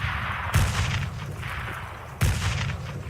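Two heavy grenade blasts, close and loud, boom about two seconds apart during training in the video game Darkest of Days, over a constant low rumble of background battle noise.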